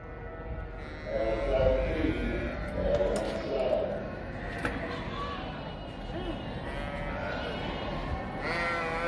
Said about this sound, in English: Seemed like quite a few sheep.